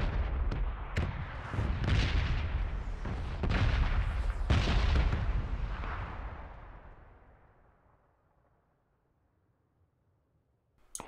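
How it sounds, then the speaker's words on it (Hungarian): Red zone artillery shells in a League of Legends game blast nearby in a rapid volley of loud booms and cracks, the barrage thinning into a fading rumble, then near silence before one last sharp hit. "Elég közel vannak ezek a lövések"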